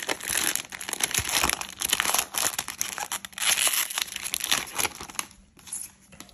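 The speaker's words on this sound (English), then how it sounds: "let's rip this Cello pack, Mosaic" Someone tears open a Panini Mosaic cello pack of trading cards, and the cellophane wrapper gives a close, continuous crinkling and crumpling for several seconds before it briefly quiets near the end.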